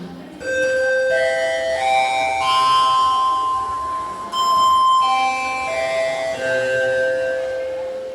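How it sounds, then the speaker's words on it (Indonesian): An electronic school bell rings for break at an Indonesian school, playing a loud, clear chiming melody of several sustained tones that pauses briefly and then continues. "Bel masuk istirahat berbunyi."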